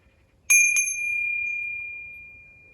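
A bus stop bell on the 198 bus gives two quick dings, then one clear bright tone that rings on and fades slowly, alone with no voices.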